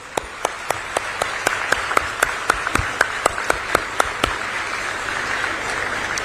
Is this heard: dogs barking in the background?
no